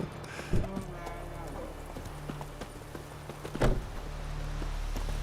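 Horse hooves clip-clop in a few scattered knocks over a steady low hum, with a faint murmur of talk underneath, in the video game The Witcher 3: Wild Hunt.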